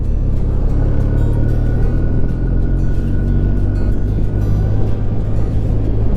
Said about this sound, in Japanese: 今日もボクサーエンジンは快調です